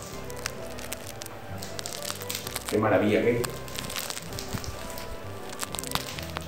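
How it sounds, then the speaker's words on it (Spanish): The crust of a loaf of bread fresh from the oven crackles in many fine, dry, ticking pops under a person's speech, with a louder burst of crackling midway through. "qué sonido de la corteza, ese crepitar"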